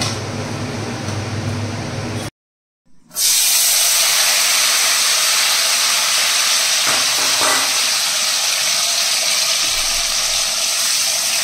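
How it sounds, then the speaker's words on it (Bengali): Cashews and raisins fry in refined oil and ghee with a steady, loud sizzling hiss that cuts out briefly, then resumes strongly and continues unbroken. "এদিকে কাজু কিশমিশটা ভেজে নিচ্ছি"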